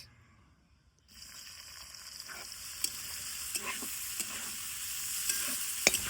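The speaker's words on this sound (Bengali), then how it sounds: "এবার দিয়ে দিব হচ্ছে ঝিরিঝিরি করে কাটি দেওয়া পেঁয়াজ।" Thinly sliced onions drop into hot oil after a near-silent second, then fry with a continuous close hiss and sizzle, broken by a few sharp stirring clicks.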